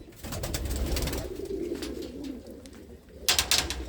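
Inside a coop, a group of pigeons keeps up a dense, low cooing drone, then a burst of sharper rustling and flutter-like noise near the end.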